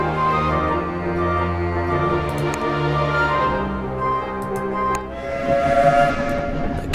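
A steam train whistle in the video game 80 Days sounds a long, loud, sustained tone alone with a steady hiss of steam, then a second higher blast follows near the end.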